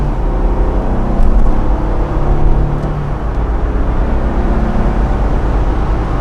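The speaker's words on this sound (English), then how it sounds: "All right, so we're gonna go ahead and accelerate." Cabin noise from a 2022 Jeep Wrangler accelerating on the road: a steady, loud low engine and tyre rumble that swells slightly and then settles, with no talking.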